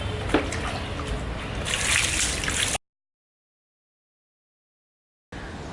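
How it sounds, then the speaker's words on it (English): Water trickles and splashes steadily while rinsing a car alloy wheel for a few seconds, cuts out to silence, then resumes briefly; close and fairly loud. "simply put the water, wash it with water."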